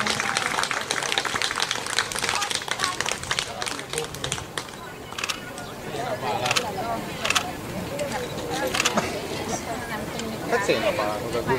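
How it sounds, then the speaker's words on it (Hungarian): Audience clapping for riders and their horses at a horse show, a sustained spatter of applause with a steady run of claps, mixed with crowd chatter nearby. "Azért még egy hatalmas tapsot megtapsolhatjuk itt a lányokat és a pacikat."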